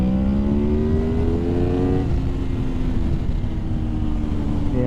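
A motorcycle engine revs steadily, pitch climbing over the first two seconds then holding at a high, loud drone, recorded close up while preparing for racing at TT Assen.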